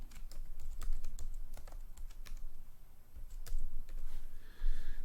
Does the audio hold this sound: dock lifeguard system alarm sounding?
no